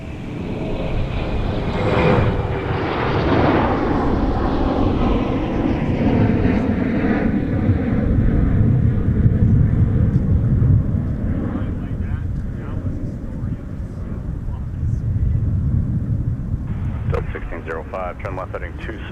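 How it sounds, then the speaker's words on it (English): An airliner takes off from Minneapolis–Saint Paul airport in winter, its loud, steady engine roar filling the whole stretch with wind buffeting the microphone, while air traffic control radio chatter plays over it. "cleared for takeoff"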